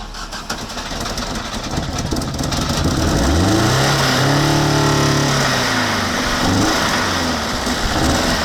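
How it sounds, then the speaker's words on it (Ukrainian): A car engine revs up loudly and holds a rising, then falling drone, close by, with a steady rumble throughout. "Оце звук двигателя."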